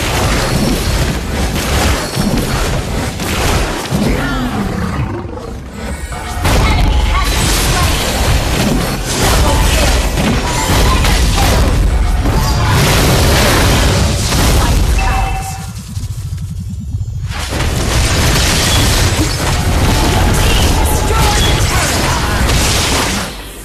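Booming blasts and rumbling explosions from a turret being destroyed in the video game Cyclops, loud and continuous with dense crashing layers and brief lulls, a voice speaking over parts of it.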